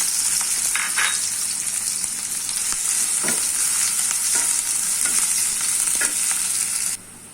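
Chopped onion fries in hot oil in a kadai with a loud, continuous sizzle. Repeated scraping and clinking from stirring runs through it before the sound drops away abruptly at the end.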